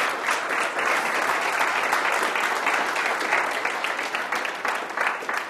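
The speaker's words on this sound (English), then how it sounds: "Give him a round of applause" Sustained applause from a TED Talk audience, dense steady clapping throughout, moderately loud and even, with no talking over it.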